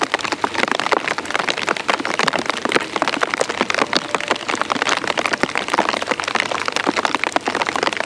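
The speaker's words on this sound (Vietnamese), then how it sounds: "Đây, trời mưa nè" Heavy storm rain pours down in a steady, dense patter of countless close drops, with sharp taps scattered through the continuous hiss and no voices heard.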